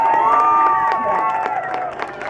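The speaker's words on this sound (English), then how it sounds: "Can I get an applause?" A crowd at an outdoor Christmas tree lighting in El Segundo claps and cheers, with scattered sharp claps and shouts under a sustained, tonal voice or music layer, including children's cries, moderately loud and fading slightly.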